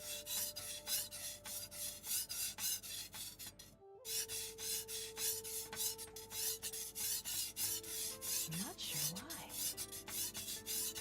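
A steel blade is drawn across a whetstone to raise a burr toward the edge, giving steady repeated rasping strokes in a close, even rhythm, with a brief gap partway through and some tonal ringing near the end.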